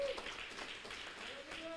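Congregation clapping together during a Sunday worship service at a GBI church in Pontianak: a steady, dense wash of hand claps that runs the full length, with a faint sustained tone beneath.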